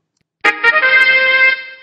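Festival trumpets blare a bright, brassy call at a celebration for the ark's arrival, with two short opening blasts, then a held note that sustains loudly before fading.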